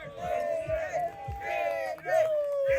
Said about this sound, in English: Getting some high fives, get some cheers.